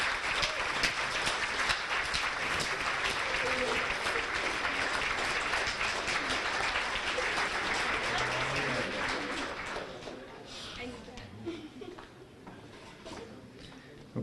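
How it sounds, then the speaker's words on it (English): A room of people at a high school fall sports banquet claps for the coach, a thick steady round of applause that tapers off toward the end. "would you all please give a round of applause for the most amazing coach I've ever had"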